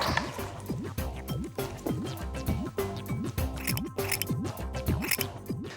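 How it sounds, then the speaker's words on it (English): Scissors snip small pieces of red wool in a quick run of crisp, close cutting clicks, repeated rhythmically about twice a second over light background music. "we need to cut small pieces of wool like this"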